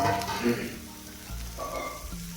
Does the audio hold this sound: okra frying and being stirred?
yes